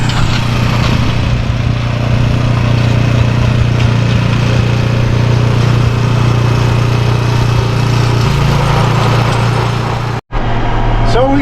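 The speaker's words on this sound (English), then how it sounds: "I'm pulling the baler behind me." A tractor engine runs steadily close by while pulling a Christmas tree baler, a loud constant droning hum with low tonal bands that shifts slightly near the end, with a short sharp dropout just before it closes.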